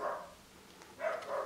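A dog barks indoors, with two short, moderately loud bursts separated by a quiet gap and no talking over them.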